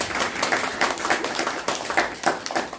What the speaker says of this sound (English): Let's give a round of applause to Gita.